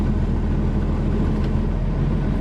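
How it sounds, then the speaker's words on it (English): Diesel engine idling high during a regeneration cycle, a steady, loud, low droning hum that holds constant throughout with no talking. "Idling pretty high."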